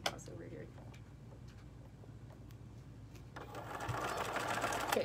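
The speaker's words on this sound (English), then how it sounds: "Okay, so I'm back to sewing around the brim again. Oh, this one doesn't does not bounce. This is the old machine. I love this machine. It's a Bernina 1130." A Bernina 1130 sewing machine stitches around a hat brim in a steady, rapid mechanical chatter that grows louder and busier in the last seconds, with a voice speaking nearby.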